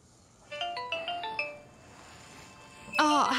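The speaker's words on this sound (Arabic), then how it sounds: "إلا طالع لي التليفون." A phone ringtone plays a short bright melodic run of rapid beeping notes, then pauses before another burst begins, heard close and clear in a quiet room.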